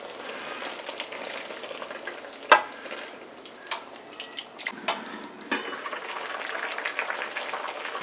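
A pot of coconut milk for catfish stew bubbles and sizzles steadily at close range, with scattered pops and a sharp clink or two of a utensil.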